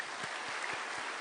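Faint, distant applause fills a large Shincheonji church assembly hall in Gwangju, a soft, even wash of clapping with a few low thumps.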